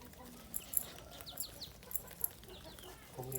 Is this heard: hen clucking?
yes